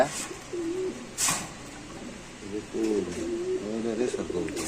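Pigeons coo in soft, repeated rolling calls under nearby chatter at a pigeon market, with a couple of brief flutters or bumps in the background.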